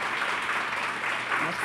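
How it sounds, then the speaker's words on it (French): Audience applause after a panel discussion on the performing arts in the digital age: a short, steady burst of clapping from a seated crowd, with some voices audible beneath it. "Je pense qu'on peut les applaudir."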